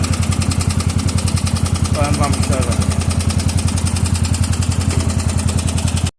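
Up close, a Massey Ferguson 30 tractor engine chugs at a steady, rapid idle throughout, someone briefly talking over it before it cuts off abruptly at the end.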